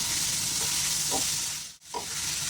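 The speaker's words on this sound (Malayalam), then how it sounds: "അപ്പോൾ തക്കാളിയൊക്കെ നല്ല രീതിയിൽ ഒന്ന് വഴറ്റിയെടുക്കാം" Chopped tomatoes sauté in a pan for prawn curry, giving a steady close sizzle with a few soft stirring scrapes and a brief dip near the end.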